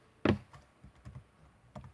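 A few quick, close keystrokes on a computer keyboard, with one sharp tap followed by lighter, scattered clicks in a quiet room while working in Premiere Pro.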